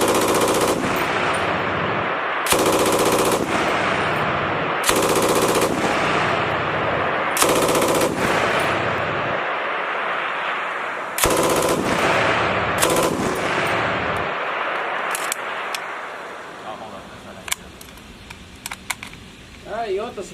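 A U.S. Army M250 6.8mm machine gun firing full auto in loud, long sustained bursts separated by short pauses, close and harsh, then a few scattered clicks and quieter sounds near the end.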